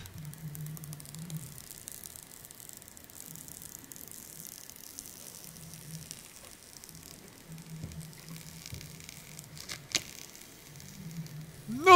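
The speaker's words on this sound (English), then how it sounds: "Now, let's commence to the important test. The sizzle test." Steady, faint sizzling and crackling hiss, like frying, runs continuously for about twelve seconds, with low humming bursts underneath and a brief sharper click near the end.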